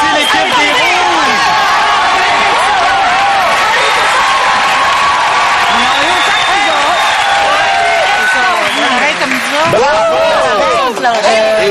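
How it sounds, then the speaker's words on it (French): A studio audience on a French television game show cheers and applauds the Red team, a loud continuous roar of clapping, whoops and shouts that stays dense and close throughout. "On applaudit l'équipe des Rouges"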